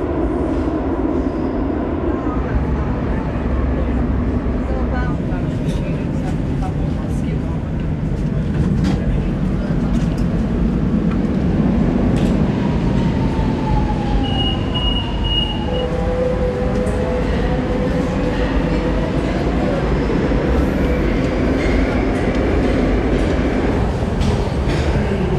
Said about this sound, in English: I'm on the metro